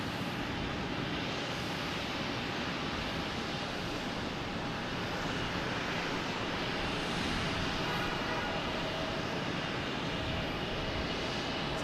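Japan Airlines jet airliner at Boston Logan airport, a steady broad engine roar held at an even level throughout, heard from an outdoor parking lot with no talk.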